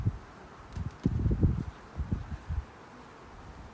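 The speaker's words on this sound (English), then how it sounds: "A little windy here today, but it's really nice." Wind gusts rustle leaves outdoors beside a beehive on a mild day, coming in soft irregular bursts of low rumble and brushing noise that rise and fall, moderately close with no talking.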